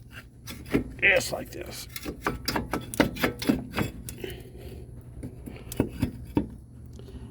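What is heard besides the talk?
brake caliper being removed from Jeep Cherokee XJ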